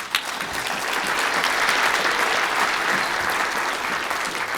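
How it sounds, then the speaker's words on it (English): Steady, loud applause from a sizable crowd at a national newspaper awards ceremony, dense clapping sustained throughout without letting up. "Please give this man a round of applause."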